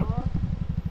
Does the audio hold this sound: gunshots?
no